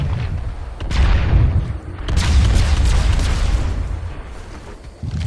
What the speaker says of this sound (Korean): 수류탄 발사! 수류탄 발사!